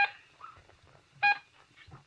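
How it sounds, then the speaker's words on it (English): Two short bursts of a shipboard collision alarm in a 1950s science-fiction radio drama, a buzzing electronic tone with bright harmonics at the start and again about a second later, the rest quiet with a low hum. "First, you've heard the collision alarm."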